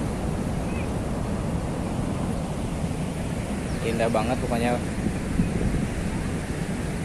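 Ocean surf at Hutan Cemara beach in Cidaun, Cianjur, a steady broadband wash of waves and wind throughout, with a person speaking briefly over it.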